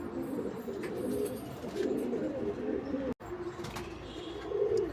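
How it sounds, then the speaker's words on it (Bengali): Pet pigeons coo in overlapping soft, throaty rolls close by, a steady flock murmur with a brief dropout midway and faint chirps, no clear voices. "খুব দুর্দান্ত পায়রা, আমাদের খুব পছন্দের পায়রা।"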